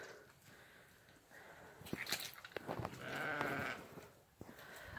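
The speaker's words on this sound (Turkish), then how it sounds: "O meleğen kuzu." A sheep near newborn lambs bleats several times, close by and fairly loud, with quiet pauses and soft shuffling sounds between calls.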